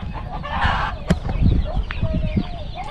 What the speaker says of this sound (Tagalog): Kaingay naman ang manok na to.